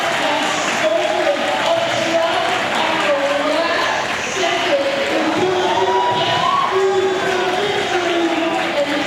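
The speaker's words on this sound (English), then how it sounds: "you probably heard from that crowd reaction. Something huge happened at CT1." A big crowd at a Classic Tetris tournament roars with cheers and shrill screams, loud and sustained throughout with voices rising and falling in waves.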